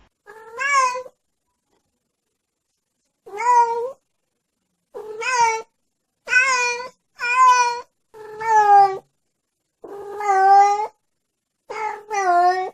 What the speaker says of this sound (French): un petit extrait de vidéo d'une minette qui est en chaleur pour vous montrer le miaulement assez particulier qu'elles ont